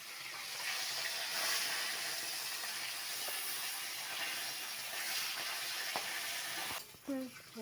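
Fish frying in hot oil makes a steady, moderately loud hiss and sizzle throughout, and a voice briefly speaks near the end.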